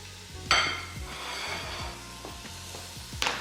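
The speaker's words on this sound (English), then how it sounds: "So we'll let this sear for a few minutes" A beef roast sears in an Instant Pot with a low, steady sizzle. It is broken by a few sharp metallic clinks and scrapes, with a louder clatter at the start and again at the end.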